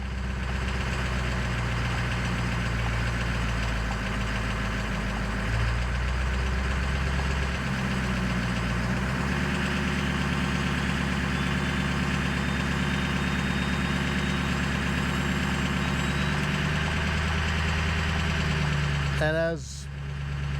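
Ford Powerstroke diesel truck engine, a 6.0 or 7.3, idling steadily with its variable-geometry turbo whistling and rising in pitch, close and continuous under occasional talk, with a brief burst near the end.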